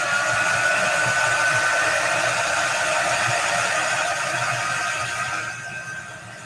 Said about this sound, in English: And I'm going to come in with my dryer.